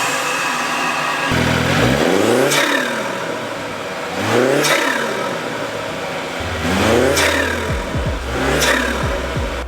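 BMW N20 and B48 four-cylinder engines fitted with MST Performance intakes, revved hard four times in a row, each loud rise and fall of intake whoosh and engine note close by, with no talking.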